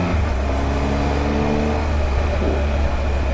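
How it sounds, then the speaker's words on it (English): A 2018 Triumph Tiger 1200 motorcycle riding at speed gives off a steady mechanical engine whine with a pronounced hum, loud and constant over the rushing road and wind noise. "It's mechanical engine noise of some sort."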